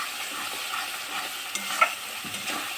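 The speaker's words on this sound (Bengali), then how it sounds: "চলো এবার এটাকে ভালো করে কষাবো, খুব সুন্দরভাবে এটাকে কষিয়ে নিতে হবে।" Spice paste being stirred and fried in a pan for mutton kosha, a soft continuous sizzle with light scraping strokes, fairly quiet and without talk.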